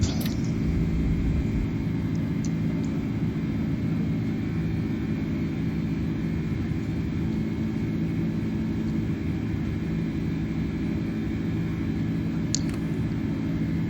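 A simulated Airbus A310 taking off from Boston, its engines a constant heavy rumble and broadband roar that stays loud and steady throughout, with no voices heard.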